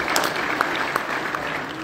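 Convention crowd at the Hot Wheels Collectors Nationals claps for the staff, a brief burst of dense, even applause filling the room, steady and fairly loud.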